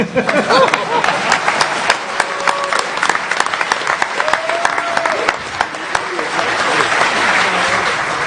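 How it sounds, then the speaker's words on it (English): A conference audience at DefCon bursts into sustained applause, dense overlapping claps filling the room from start to finish. "Everybody want to clap for Dan Kaminsky"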